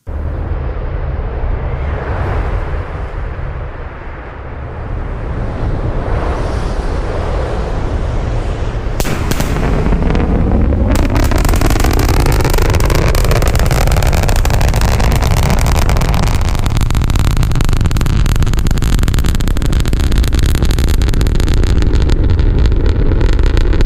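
A distant rumbling roar from a SpaceX Starship sonic boom builds and swells into a long, rolling thunder-like boom that lingers and echoes across open air.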